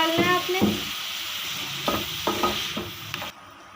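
Boneless chicken and chopped tomato sizzling in a pan over a low flame, steady frying hiss with several sharp spatula scrapes and stirring knocks against the pan, no voices.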